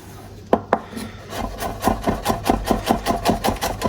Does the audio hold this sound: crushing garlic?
yes